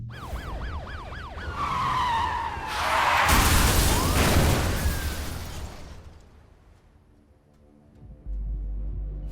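A high-speed car crash involving police units in Need for Speed Rivals: loud tire skids and a wailing siren build into a violent smashing impact with shattering debris, fading to quiet before an engine rumble returns.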